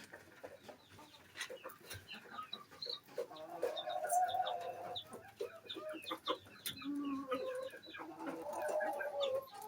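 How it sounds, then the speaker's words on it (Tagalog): Rooster on a mini backyard farm, a Black Mahogany breeder bird, clucking and calling alongside other fowl, with busy overlapping bird sounds of moderate loudness throughout. "Yan mga kaibigan, yung rooster natin."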